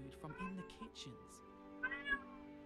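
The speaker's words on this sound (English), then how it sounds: "I'm sorry for about the meowing in the background." A cat meows softly in the background indoors, its faint calls mixed with other quiet sounds.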